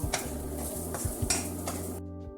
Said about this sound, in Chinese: 将锅烧热，放入肥肉熬油